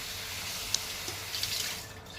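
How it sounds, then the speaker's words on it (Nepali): Bitter gourds being washed by hand under running tap water in a home kitchen sink, a steady splashing flow with a few sharper splashes as the vegetables are rinsed, close and continuous. "मैले करेलालाई धुनुतर्फ लागेँ। धुनु लागि चाहिँ धुएँ, मजाले धुएँ"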